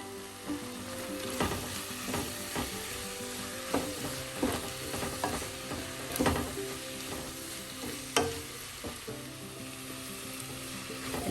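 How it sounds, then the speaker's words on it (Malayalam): Coriander and pepper powders fry in a hot pan for a Kerala chicken mappas curry, with a steady close sizzle. A spoon scrapes and stirs through it in irregular knocks. "എല്ലാം ചേർത്ത് നന്നായി മിക്സ് ചെയ്യുക."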